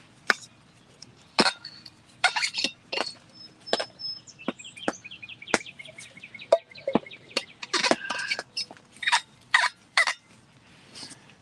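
A wild turkey hen calls near a turkey blind during a hunt, with a series of sharp clucks and yelps in irregular bursts, moderately close against a quiet background, no speech.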